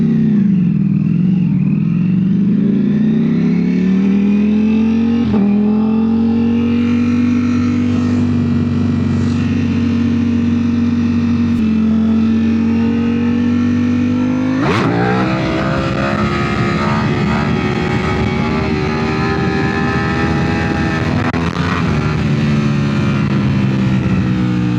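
A Ducati Panigale V4 motorcycle engine drones loud and steady while being ridden, its pitch sliding and settling through gear changes, with a sharp rise in revs about midway, heard close without any talking.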